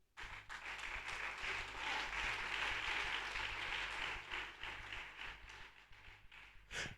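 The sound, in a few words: congregation applauding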